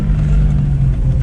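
A Lexus car engine, the car of a Slovenian championship entrant, holds a loud, close, steady low drone with a slight rev swell, heard briefly with no talking.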